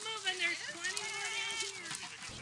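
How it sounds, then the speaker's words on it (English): A herd of goats tearing into a tangle of thorny brush at a utility substation, with one drawn-out, wavering bleat carrying over a busy rustling background. "His goats were so eager to tackle the tangle of thorny brush, Matson had to drive the early diners along"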